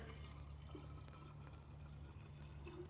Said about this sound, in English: So we're just gonna go ahead in plain chilled water.